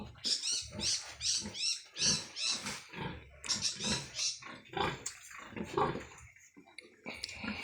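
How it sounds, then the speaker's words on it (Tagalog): A mother sow at a livestock seller's pen gives repeated squealing, grunting cries in a quick rhythm, loud and close, with short pauses between bursts. "Yan pa mga idol, si Mama Pig."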